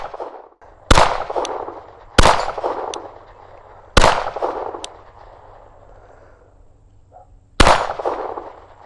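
Four loud shots from a PSA Dagger Glock-clone pistol at plinking targets, spaced irregularly over several seconds, each a sharp crack followed by a ringing metallic clang and a decaying echo.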